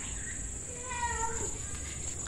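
A house cat meows faintly in a short wavering call against a steady background hum, with no talking during the clip.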